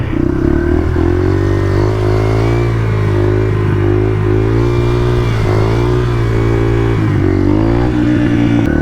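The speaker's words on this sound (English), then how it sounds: "Carbureted bikes bog when I dip too hard." A carbureted Yamaha R7 motorcycle engine revs loud and close, its pitch climbing and dropping repeatedly with brief bogging stumbles, alone without talk.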